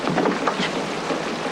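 Steady rain pours down in a scene from a western drama, with a dense, even hiss filling the whole stretch and a faint low rumble beneath it, no voices.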